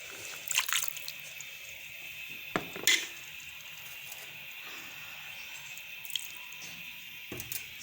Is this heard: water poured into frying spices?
yes